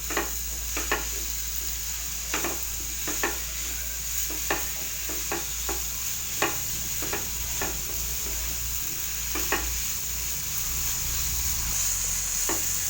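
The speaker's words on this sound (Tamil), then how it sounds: "நல்லா கிளறி விட்டுக்கலாம். இது கொஞ்சம் வேகட்டும்." Karaikudi mango pachadi is stirred and sautéed in a pan, with a constant soft sizzle beneath a series of sharp, irregular scraping clicks from the spoon, spaced roughly every half second to second.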